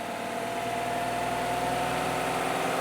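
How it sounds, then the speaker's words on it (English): Truck engine held at a raised, steady rev with a constant droning hum and vibration, loud and close with no talk. "Rev it up higher."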